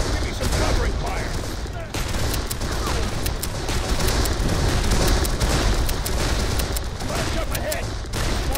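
Musket gunfire in a Battle of Antietam scene at Burnside's Bridge, a steady crackling fusillade of many sharp shots overlapping nonstop, loud and close, with shouted voices mixed in.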